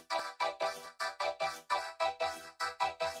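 Choppy, vocal-like vocoded supersaw synth chords pulsing in a steady rhythm of about a dozen short bursts, each swelling and fading quickly, with a talking, formant-filtered tone.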